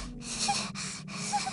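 Rhythmic character breathing from the Psychonauts video game, three steady breath cycles each broken by a short pause, over a constant low hum.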